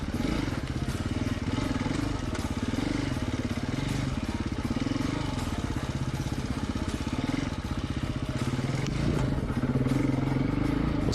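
A KTM 250 EXC-F four-stroke enduro motorcycle rides slowly over rocks in Colorado, its engine a steady, close, continuous drone with pulsing revs and rocky clatter throughout.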